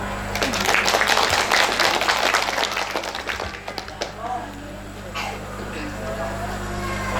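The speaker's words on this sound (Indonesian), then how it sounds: "Tepuk tangan" Applause from a group at an Islamic boarding school recitation, a burst of dense clapping that swells, then thins out into scattered claps, with voices talking over it.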